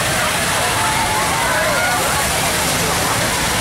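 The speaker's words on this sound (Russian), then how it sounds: "А тут вода течет." Water flowing and splashing from a fountain in a Chicago city square, a loud, dense, continuous rush that stays constant and close, with voices faintly underneath.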